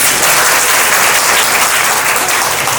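Audience at a large spiritual convention gathering clapping together, a dense, loud, continuous burst of applause filling the whole short stretch without a pause.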